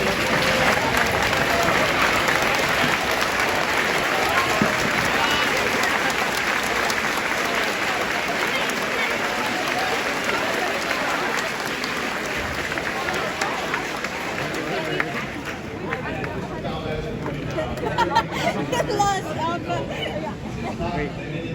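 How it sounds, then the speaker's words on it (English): Students and a large audience rise and applaud at a school opening event, a loud, dense wash of clapping that holds steady and then thins into crowd chatter and scattered claps. "would you please stand up and give a round of applause for them, students, everybody?"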